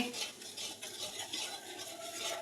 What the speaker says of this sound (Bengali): কড়াইয়ে নাড়া হচ্ছে ম্যাঙ্গো পিউরি, তার সঙ্গে দুধ চিনি একসঙ্গে মিশিয়ে সমস্তটা নাড়া হচ্ছে কড়াইয়ে।